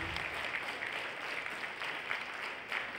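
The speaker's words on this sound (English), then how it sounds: "can we all stand and give them a huge round of applause" Steady applause from a standing audience at a film event, dense clapping filling the room evenly for about three seconds with no voices over it.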